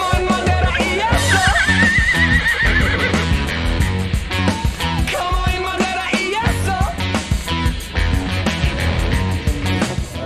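Horse at a fair's conformation judging lets out a loud, quavering whinny in the first seconds, then keeps snorting and nickering over steady crowd noise and hoof shuffling.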